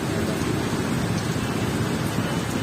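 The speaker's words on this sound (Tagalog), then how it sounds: "Inabot tayo ng ulan. Ayan, ang lakas ng ulan." Heavy rain pours steadily and loudly during a typhoon with flooding, a dense continuous roar of drops close by with no pauses.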